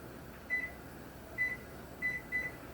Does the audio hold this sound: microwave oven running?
yes